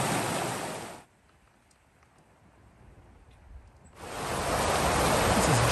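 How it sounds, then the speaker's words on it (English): Creek water rushes loudly at a trail crossing in Colorado's Weminuche Wilderness in the San Juan Mountains, dropping away to a quiet murmur for a few seconds before the steady roar returns up close. "First creek crossing of the day."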